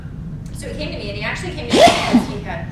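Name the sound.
sneeze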